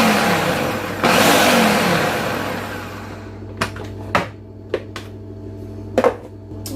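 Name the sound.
food processor pulsing flour and salt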